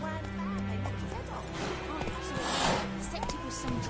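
Roach, the horse in The Witcher 3, gallops with steady clip-clopping hooves and lets out a neigh, set against game music, with someone speaking briefly.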